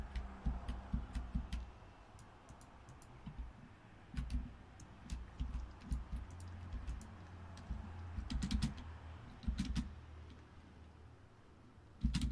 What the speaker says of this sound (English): I don't need the keyboard to crap out.